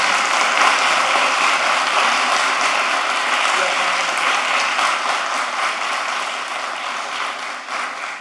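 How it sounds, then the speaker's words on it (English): Audience applause at a city commission meeting honoring a departing official, steady sustained clapping from a roomful of people that holds evenly and tapers slightly near the end. "Round of applause,"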